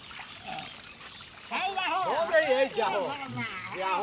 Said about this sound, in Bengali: টমেটো ধোয়া হয়ে গেল কত সুন্দর করে ধোয়া আছে